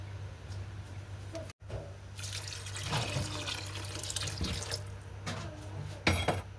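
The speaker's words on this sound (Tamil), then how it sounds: "இன்னும் கொஞ்சம் தண்ணி சேர்க்கணும்" Water pours in a steady stream into a cooking pan while a dish is being prepared, a continuous splashing flow near the microphone with a brief break and a louder gush toward the end.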